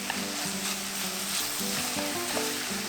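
Glass noodles and vegetables stir-fried together in oil in a pan give a steady, close sizzle, broken by soft scraping and stirring as the ingredients are tossed.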